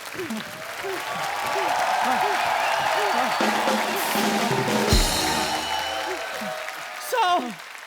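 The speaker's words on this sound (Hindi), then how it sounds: "जोरदार तालियां" Studio audience applause on a Hindi comedy show, steady and loud throughout, with voices talking over it and a burst of sound near the end.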